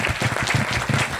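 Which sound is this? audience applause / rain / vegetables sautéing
audience applause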